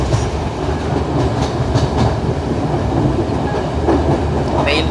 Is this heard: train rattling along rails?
yes